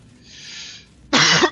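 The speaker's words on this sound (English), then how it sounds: "Sorry about the cough." A single sharp, loud cough bursts out near the end, preceded by a softer breathy rasp, from someone narrating a Darkest Dungeon playthrough.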